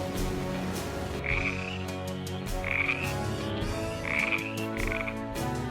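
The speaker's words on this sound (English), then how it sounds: "Next came the frogs." A loud, close chorus of frogs croaking continuously, with sharper croaks standing out in repeated bursts. No voices.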